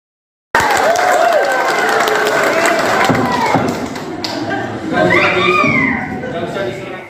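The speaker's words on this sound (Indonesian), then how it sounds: "Sidang pra-peradilan Pegi Setiawan di Pengadilan Negeri Bandung pada Rabu 3 Juli 2024 berlangsung riuh." A rowdy crowd fills a courtroom during a pretrial hearing in Bandung, with loud overlapping voices, shouts and scattered claps and thumps that settle slightly before swelling again.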